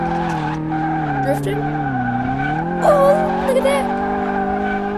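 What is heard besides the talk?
car drifting with tire skid in Car Mechanic Simulator video game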